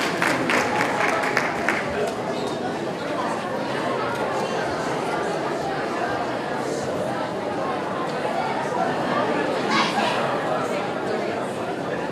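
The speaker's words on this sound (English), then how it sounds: "a huge round of applause for all the band kids" A school assembly audience claps for the middle school band students, sustained loud applause mixed with crowd chatter and a few cheers, holding steady for the whole stretch.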